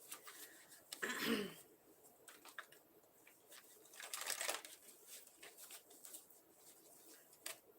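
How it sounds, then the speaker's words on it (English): Soft papery riffling of tarot cards being shuffled, in a few quiet bursts with faint rustles between them, close by but low in volume. "Let me shuffle again."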